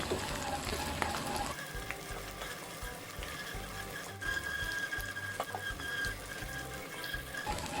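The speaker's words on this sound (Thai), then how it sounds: "ให้เราใช้ไฟ แรงเนี่ย ตลอดเวลาระยะเวลาในการทอดนะคะ" Small shrimp deep-frying in hot oil over high heat, with a loud, continuous crackling sizzle broken by occasional stirring clinks, close and steady throughout.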